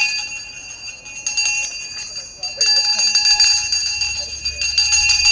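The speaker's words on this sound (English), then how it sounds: "I'm going to ring the bell as you hear." A bell rings out with sustained, bright tones amid a meal with food being served, its ringing steady and fairly loud over a busy room while people talk nearby.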